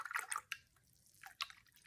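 A paintbrush is rinsed in a cup of water while painting a Mount Rainier watercolor, giving soft close drips and small splashy swishes in a few separate bursts, quiet and alone.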